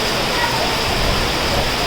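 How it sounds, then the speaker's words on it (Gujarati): Heavy rain in a windstorm pours down in a dense, steady broadband roar with no pauses, loud and close throughout. "એકદમ વાવાઝોડા સાથે બહુ વરસાદ આવ્યો છે"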